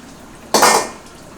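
A single sharp metallic clatter of a Chinese wok knocked on a lit stove, ringing briefly before fading into quiet.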